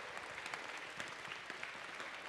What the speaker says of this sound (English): Can we have one gigantic round of applause for everybody who helped make this event a success?